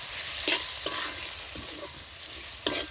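Spices with cumin powder and tadka masala are stir-fried for vegetarian ghugni, a close, continuous sizzle punctuated by several crisp spatula scrapes against the pan.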